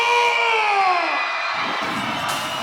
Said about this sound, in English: Scream and shout and make some noise for Revyv and Skaapboer